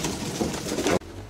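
Close, throaty cooing of pigeons that rolls on for about a second and then cuts off abruptly, leaving a quiet low hum.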